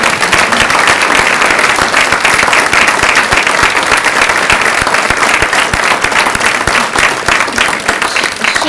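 A large audience at a MECF event claps loudly and steadily for close to nine seconds, with a dense wash of individual hand claps and no talking over it.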